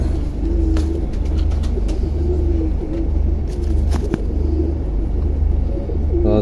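A sturdy golden pigeon coos close by, repeating low, throaty phrases at an unhurried rhythm over a constant deep rumble.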